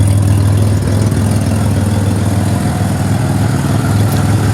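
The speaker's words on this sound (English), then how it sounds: "she definitely gotta fix that exhaust leak, get that gasket in there." A Pontiac Grand Prix engine idles steadily with an exhaust leak, a loud, close, continuous low rumble with ticking texture that holds even throughout, no talking.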